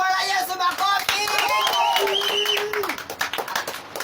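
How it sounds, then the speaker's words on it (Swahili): A church congregation claps for Jesus, with quick, uneven hand claps running through the whole stretch, mixed with singing and voices and someone talking. "Pigia Bwana Yesu makofi"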